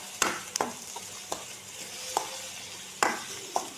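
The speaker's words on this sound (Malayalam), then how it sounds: "ഇതിനടുത്ത് നമ്മൾ വെളുത്തുള്ളി ഇഞ്ചി പേസ്റ്റ് ഇട്ട് കൊടുത്തിട്ട് ഒന്നുകൂടെ ഇളക്കാണ്" Ginger-garlic paste being stirred into onions sautéing in a pan for egg roast, with a steady close sizzle and several sharp scrapes of a spoon against the pan.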